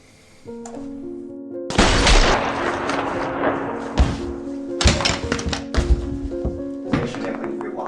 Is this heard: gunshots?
yes